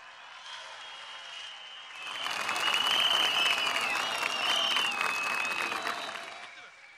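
Crowd at a Turkish CHP political rally in Gaziosmanpaşa bursts into loud sustained applause that swells after a couple of seconds and holds, with whistles and cheers over it, then begins to fade.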